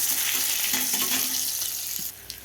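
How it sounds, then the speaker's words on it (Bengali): Dried red chillies and garlic sizzle in hot oil, a steady close crackle with light stirring scrapes, fading near the end. "দিয়ে দিচ্ছি শুকনো লঙ্কা, আর দিয়ে দিচ্ছি রসুন।"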